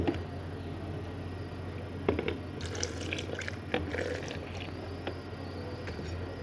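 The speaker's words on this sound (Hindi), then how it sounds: "ये हमने 2 गिलास पानी डाल लिया।" Quiet splashing and trickling as water is poured into a pot of kadhi, with a few scattered drips and clinks, steady throughout with no voices.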